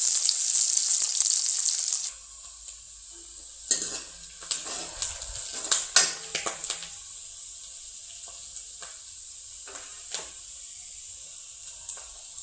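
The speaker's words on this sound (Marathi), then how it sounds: "कांद्यासोबत आता कढीपत्ता पण त्यामध्ये टाकते आणि त्याला चांगलं परतून घेते।" Onion and curry leaves sauté in hot oil for a traditional Marathi urad dal amti, a steady close sizzle broken by bursts of spoon stirring and scraping against the pan; no one speaks.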